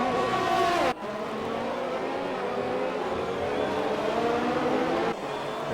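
Racing cars in an Xbox game at the Mexican Grand Prix, a continuous loud engine whine rising and shifting in pitch, with a sudden gear change or cut near the start and another near the end.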